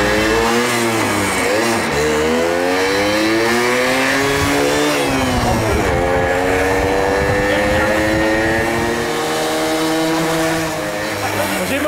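A Condor three-wheeler's motor revs repeatedly. The engine note climbs and falls in pitch with each throttle blip, loud and close, while people talk over it.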